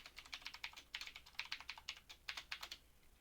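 Rapid keystrokes on a computer keyboard as a username and password are entered at an Azure portal sign-in, a close, steady run of clicks in quick bursts for about three seconds, no voices.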